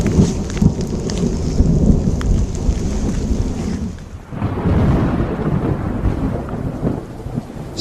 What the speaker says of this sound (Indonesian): Hujan mulai deras.